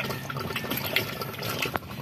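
Water gurgles and splutters through a hose as it fills and air is purged, a close, continuous wet churning with a few brief louder gulps and bubbles.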